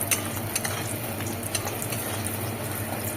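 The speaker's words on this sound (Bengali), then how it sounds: "এবার বড়িগুলো হালকা করে একটু ভেজে নিতে হবে।" Lentil bori fries lightly in hot oil in a home kitchen, a steady fine sizzle with occasional small pops and crackles, close and continuous with no talking.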